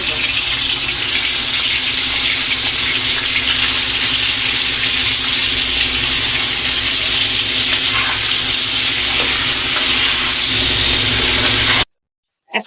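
Shrimp sizzle and fry in hot oil in a wok, a loud, steady crackling hiss that runs continuously and cuts off abruptly near the end.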